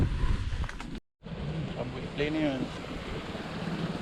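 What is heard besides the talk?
strong wind at a windy beach spot during amihan season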